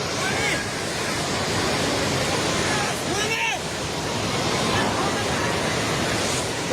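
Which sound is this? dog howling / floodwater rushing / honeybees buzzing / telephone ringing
floodwater rushing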